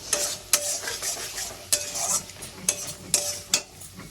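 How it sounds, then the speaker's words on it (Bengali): Ground masala paste stir-fried in a pan for a light Bengali katla fish curry with taro and potato: a loud, close sizzle broken by repeated sharp scrapes and clinks of a spatula against the pan, no voices. "পেস্টটা দিয়ে আমি খুব ভালো করে কষিয়ে নেব।"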